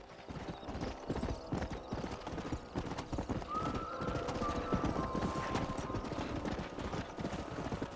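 Horse hooves clip-clop steadily in Red Dead Redemption, a continuous trotting rhythm with a horse's whinny rising partway through, set against a busy game background.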